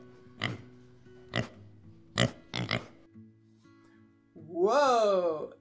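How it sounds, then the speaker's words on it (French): A pig on a farm gives several short grunting oinks spaced about a second apart, followed by a longer, higher squealing call, close and clear in a quiet setting. "Le cri du cochon."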